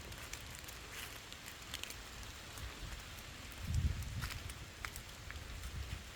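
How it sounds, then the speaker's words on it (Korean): Rain falls steadily on a bare forest walking path strewn with fallen leaves, a soft continuous patter with scattered drops and a brief low thump partway through. "그리고 지금 현재는 비가 제법 내리고 있습니다."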